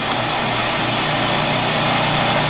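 A TURNPRO 7x12 band saw with a three-speed geared head runs steadily under power, giving a continuous, fairly loud mechanical whir and hum with no breaks.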